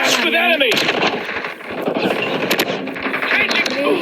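Rapid gunfire and explosions in a Call of Duty match, loud and dense throughout, with game voices and speech mixed over the shooting.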